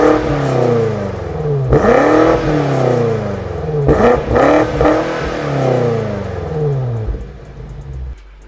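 A racing SUV engine starts up cold and revs repeatedly, rising whines sweeping up and dropping back with a throaty rumble at idle between blips, close and loud, cutting off at the end.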